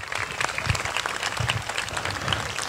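Audience applause for retiree Rosalie Sines at a retirement tribute, a steady crowd clapping throughout with dense, even texture and no talk over it.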